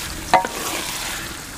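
Spices are stirred into chicken haleem in a clay pot, a soft continuous sizzle broken by a sharp scrape of the spoon early on and a brief knock at the end.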